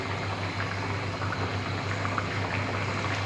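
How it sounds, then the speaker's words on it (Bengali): Potato curry bubbles at a steady boil in a pot as fried singhi fish go in, with a close, even simmering burble and no voices. "এবার আমি ভাজা মাছগুলো দিয়ে দিচ্ছি।"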